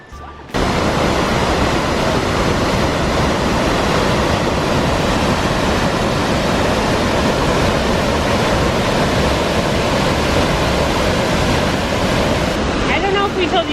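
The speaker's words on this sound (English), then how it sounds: "Like legit waterfalls." A large waterfall along the Eagle Creek trail roars as a loud, unbroken wash of white noise, close and steady for the whole stretch with no break.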